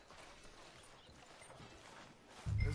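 Horse hooves clip-clop faintly in Red Dead Redemption 2, a quiet steady walking rhythm under ambient game sound, followed by a louder thump at the end.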